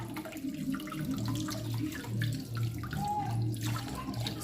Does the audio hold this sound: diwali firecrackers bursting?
no